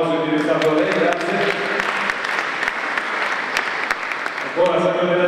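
Crowd at a sports honours award ceremony breaking into strong, sustained applause, with a speaker's voice heard just before it swells and again as it dies down.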